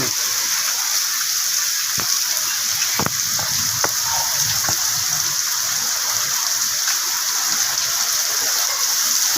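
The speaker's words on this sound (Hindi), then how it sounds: "सही बारिश आ रही है।" Steady rain hissing broadly over the whole stretch, with a few sharp drips or taps standing out now and then.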